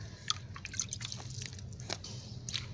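Water is poured gently onto ajwain seeds in potting soil, giving quiet, scattered drips and soft wet splats that come close and faint, with no voices.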